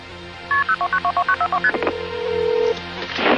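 A phone keypad beeps out a number in about a dozen quick, evenly spaced dual tones, then a steady tone and clicks follow.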